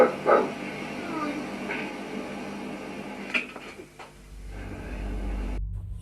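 A voice imitates a dog with a few yipping barks and whimpering sounds, close up, amid some background noise.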